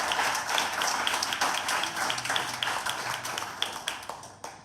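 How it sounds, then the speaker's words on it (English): An audience applauds at a school graduation ceremony, a dense, steady wash of many hands clapping that carries on for several seconds before thinning out into scattered claps at the end. "give a big clap to all of them."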